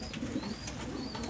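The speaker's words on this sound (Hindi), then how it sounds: "ये प्योर ब्रीड के कबूतर हैं और ये यंग कबूतर हैं" Young purebred Amritsari pigeons cooing, soft low repeated coos close by with a faint chirp, no voices over them.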